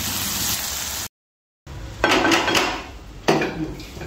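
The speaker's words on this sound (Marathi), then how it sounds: "थोडं हे 5-5 मिनिटं आपण परतून घेणार आहे" Indian-style pasta with sauce is sautéed in a pan, with a spoon clanking and scraping against the metal in loud bursts before and after a short silent gap.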